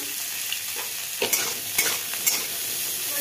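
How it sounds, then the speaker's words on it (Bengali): Finely chopped cauliflower with salt and turmeric fries in oil in a pan, a soft steady sizzle broken by several scraping stirs, close and fairly quiet with no talk. "তেল দিয়ে এই যে ফুলকপি কুচি কুচি করে কেটে রেখেছি, ফুলকপিগুলো ভেজে নেব।"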